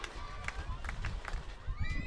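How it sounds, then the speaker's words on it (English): A loud crowd fills the stands at a night high school football game between Torrington and Tongue River, a steady roar of voices and cheering with scattered shouts rising over the din. "Pretty good number of folks out here tonight, and they're very loud."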